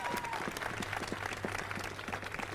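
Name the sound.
audience applause for award recipients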